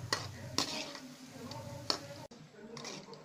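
Kara boondi deep-fries in oil with a soft bubbling sizzle, sharp clinks and scrapes of a ladle against the vessel, and a voice speaking over it.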